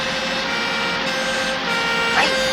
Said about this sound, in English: if you let that police car through